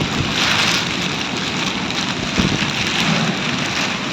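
Heavy rain pours down during a strong windstorm in Vadakara, a dense, loud and unbroken hiss of drops striking surfaces, holding steady from start to finish with no voices.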